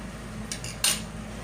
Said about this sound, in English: Now we're gonna add in our sardine mixture and mix in.